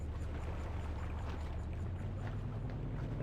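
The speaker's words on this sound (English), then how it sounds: "so let's start the engine." A yacht's engine runs with a steady low rumble and constant wash of noise in the eSail Yacht Sailing Simulator game, unbroken and fairly loud throughout, with no talking.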